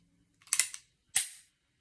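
Two dull, fairly metallic thuds come from a gun hammer being lowered during decocking. They are close and short, spaced under a second apart, in otherwise quiet surroundings.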